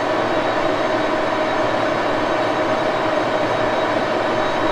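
An Axelson lathe cuts with a Micro 100 cutter and chatters, giving a constant close whine with a thin ringing tone over a broad, even wash of machining noise.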